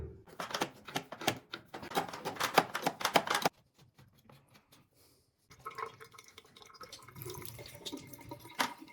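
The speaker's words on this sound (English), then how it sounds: "Open up the faucet and let all water run out from the pipes." Water gushes from an open faucet in a strong steady stream for a few seconds, draining the pipes, stops abruptly, then resumes with softer splashing and dripping.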